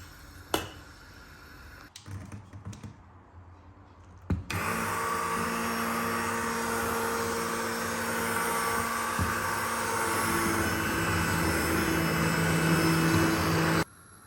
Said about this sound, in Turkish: blenderdan geçirdik çorbayı